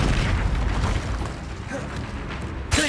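The Incendio fire spell in Hogwarts Legacy goes off as a loud, roaring burst of flame that rumbles and fades, followed by a sharp new crack at the very end.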